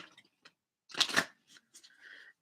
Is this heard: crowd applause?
no